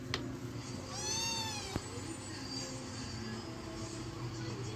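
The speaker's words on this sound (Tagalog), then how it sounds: "May naligaw pusa, oh." A cat meows once in a rising, drawn-out call, with a sharp click just after, over a steady low rumble of background noise.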